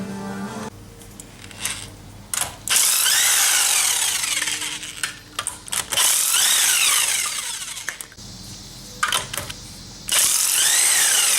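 Power tool spinning wheel nuts off a 2002 Pontiac Grand Am raised on a jack stand, loud whirring bursts in several separate runs with brief pauses between, close by and with no talking.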